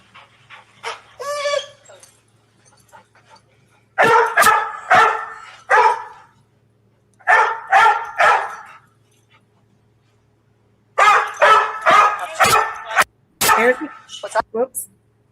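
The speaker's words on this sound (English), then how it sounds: "There's the indications with the barks and the pauses and the barks and the pauses." A trained search dog barks in loud clusters separated by pauses of several seconds, signalling a find indoors; the barks are close and sharp, with a few faint sounds between the bursts.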